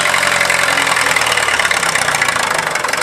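A Fordson Major tractor engine labors in too high a gear, a loud, continuous rough drone with a dense knocking texture throughout, no voices.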